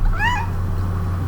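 A single short, rising-and-falling meow from a nearby cat sounds over a steady low electrical hum.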